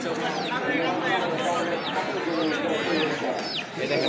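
Busy pigeon market din at Lauhati with many birds clucking and chattering nonstop, pigeons among them, under a steady crowd murmur and scattered voices.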